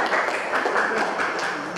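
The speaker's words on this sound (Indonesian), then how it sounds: "Buat tepuk tangan." Classroom applause after a group presentation, a short burst of hand clapping from a small group of students, fairly close and fading near the end.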